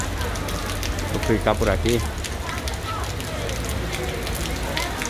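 Steady rain falls in Santana do Ipanema, Alagoas, a constant dense patter running through the whole stretch, with someone speaking briefly over it near the start.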